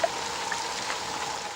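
Rain falls as a soft, steady hiss with a couple of faint drip accents, used as a sound effect in a story and heard alone without talk.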